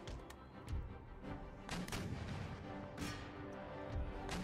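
Musket volleys crackle in the video game Empire Total War as infantry units fire on an enemy block, with scattered sharp reports and booming shots over a steady battlefield rumble, fairly distant and dense.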